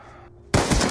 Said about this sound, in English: Machine guns now.